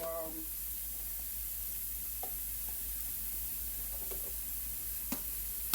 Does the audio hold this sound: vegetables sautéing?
yes